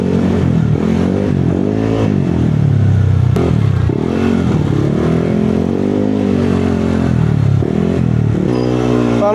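A motorcycle engine drones and revs steadily while riding on a damp road in light drizzle, its pitch rising and falling, with a sharp clack partway through.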